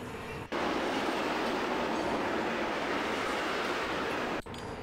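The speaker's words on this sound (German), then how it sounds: "So, ist der ganze Zug einmal angeruckt" Heavy train rolling off from a standstill in the Train Simulator game, a steady broad rumble of running gear and rail noise that holds loud and even through the clip, briefly dropping at each end.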